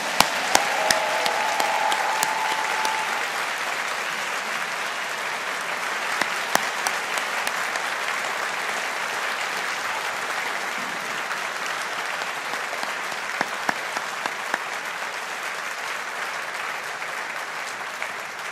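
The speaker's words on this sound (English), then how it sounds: "let's give all our graduates a big round of applause" A large audience at a university science faculty graduation ceremony applauds the graduates with steady, sustained clapping for nearly twenty seconds, with a few sharper claps standing out and a brief voice early on.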